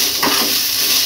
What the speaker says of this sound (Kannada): ಹಸಿ ವಾಸನೆ ಎಲ್ಲ ಹೋಗೋ ತನಕ ಚೆನ್ನಾಗಿ ಫ್ರೈ ಮಾಡ್ಕೋಬೇಕು ಅಷ್ಟೇ